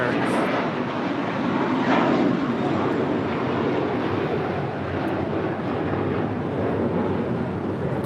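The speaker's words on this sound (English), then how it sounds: "That is American 612 departing to Orlando on an A321" An American Airlines A321 airliner departs, its jet engines a steady, broad, distant roar that holds evenly throughout with no pauses.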